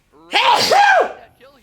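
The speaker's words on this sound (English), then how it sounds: "Sorry, I had to sneeze." One loud, close sneeze with a sharp intake and forceful burst, followed by a brief exhale.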